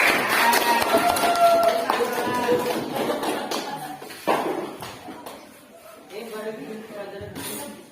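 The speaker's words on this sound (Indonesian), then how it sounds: "Beri tepuk tangan untuk teman kita" Students in a classroom at MTs Darul Ulum Sukaraja clap for a classmate: a dense patter of hands lasting a few seconds, then thinning out, mixed with voices and room chatter.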